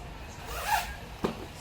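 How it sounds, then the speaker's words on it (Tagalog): Clothing zipper on a gray jacket being run open and closed, two quick zipping strokes, one longer and one a brief rasp, fairly faint against a quiet room. "So, working ang zipper."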